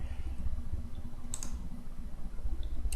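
A computer mouse gives a couple of short, faint clicks over a low, steady hum, with one crisp click near the middle and another at the end.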